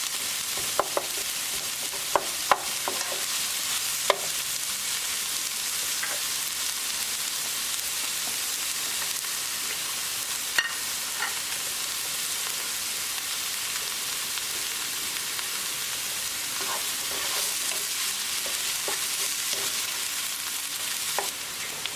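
Aubergine and onion sizzle steadily in a pan as baingan bharta cooks, with a constant frying hiss and scattered scraping stirs and utensil clicks throughout.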